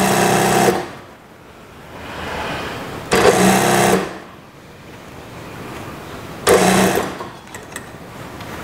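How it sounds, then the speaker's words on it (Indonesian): A sewing machine stitches an elastic waistband on drawstring shorts in three loud, fast bursts of whirring, separated by quieter pauses while the fabric is repositioned. "Pokoknya jahit terus sampai pol, sampai ketemu sisi satunya."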